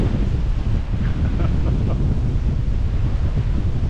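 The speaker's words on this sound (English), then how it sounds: "Cold wind, guys." Cold wind buffets the microphone outdoors in Valletta, Malta, producing a steady, loud low rumble and roar that runs continuously throughout, with no speech.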